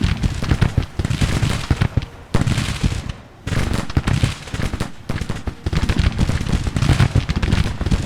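Massed musket volleys crackle in a Civil War battle at Fredericksburg in Grand Tactician, a loud, dense, continuous rattle of overlapping shots with a few brief lulls.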